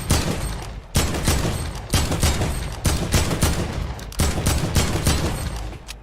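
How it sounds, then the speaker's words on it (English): Rapid automatic gunfire from a video game weapon in Fortnite, fired at practice robots: bursts of shots roughly every second, loud and continuous across the clip, with no talking. "you also want to practice with different guns here. And try to shoot headshots."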